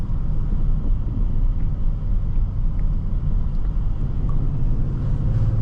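2023 Kia Stinger GT2 AWD engine pulling hard under acceleration, a dense, steady low rumble with road and wind noise heard from inside the cabin.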